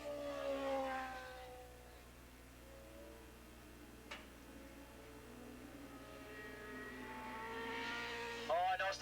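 A racing motorcycle screams past at around 155–160 mph on the fastest part of Willow Springs Raceway during a 1987 Formula USA race, its engine rising and falling across a steady, distant drone, with a sharp pass near the end.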